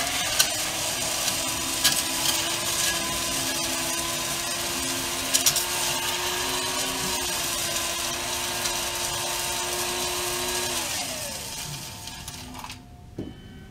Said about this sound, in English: Reach over here. Spindle blender.